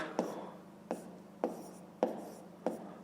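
Pen writing numbers by hand on paper during a fifth-grade maths exercise, five evenly spaced scratchy strokes about half a second apart, close and quiet with no talking.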